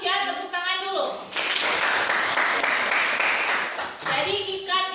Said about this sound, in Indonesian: Bagus ya, tepuk tangan dulu.